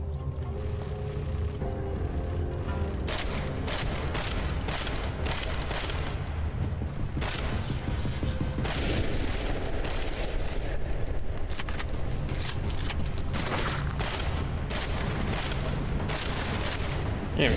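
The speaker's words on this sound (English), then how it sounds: "In fact, they're shooting at something." Enemy gunfire in Deus Ex: Mankind Divided, dense and continuous volleys of rapid shots with sharp cracks and booms, loud and unbroken for the whole stretch.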